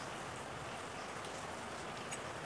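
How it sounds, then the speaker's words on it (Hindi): Steady rain falling outdoors, a soft, even hiss of drops with no pauses, fairly faint and continuous throughout. "क्या यार मौसम भी खराब हो गया है, बारिश होने लगी।"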